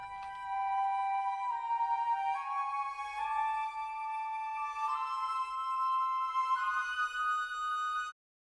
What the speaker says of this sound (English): I've put the two flutes playing in thirds